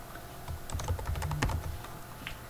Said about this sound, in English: so we can type in values for the fields of the entry